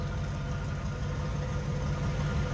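An unmodified 289 V8 in a 1965 Ford Mustang convertible idles steadily from behind the car, a low, even rumble with no voices over it.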